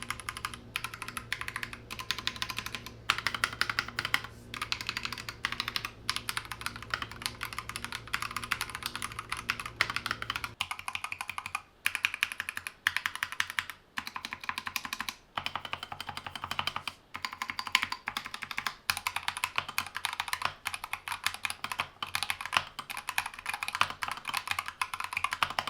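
A modded Akko 3068B 65% mechanical keyboard being typed on steadily, a dense run of close, crisp keystrokes that continues throughout, with the tone shifting partway between two setups.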